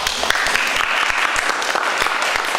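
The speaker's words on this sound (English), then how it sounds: "Clap." An audience claps steadily at an event, a dense, even burst of applause lasting a few seconds.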